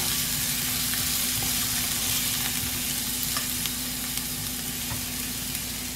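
Onion and a few small garlic cloves sauté in a pan for mushroom chukka, an even, loud frying hiss with light stirring ticks and a steady low hum underneath, no voices.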